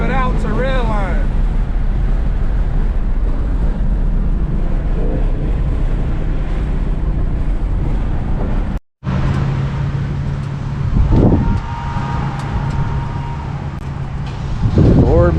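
A 2020 Ford Mustang Shelby GT500 engine roars steadily at high revs, briefly cuts out, then climbs again with rising revving pitch while wind rushes past.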